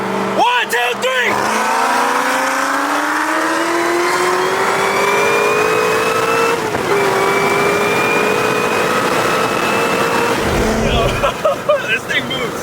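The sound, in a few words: 1000HP ZR1 Corvette accelerating in street race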